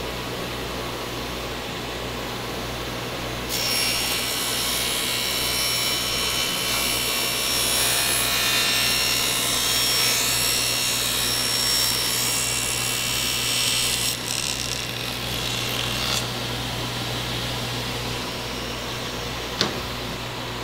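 A power saw cuts walnut for a display case, a loud high whine starting a few seconds in and running steadily for about eleven seconds before dropping back to a lower motor hum.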